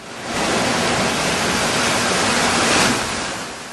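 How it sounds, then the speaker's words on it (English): Pacific Ocean surf below a bluff near Ensenada gives a steady, loud broadband wash that swells slightly before easing off, with no voices. "literally the ocean is right here"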